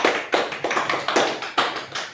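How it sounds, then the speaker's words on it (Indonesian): A group claps in a classroom session, with rhythmic claps in a steady beat for a couple of seconds, close and fairly loud. "kasih dulu tepuk tangan"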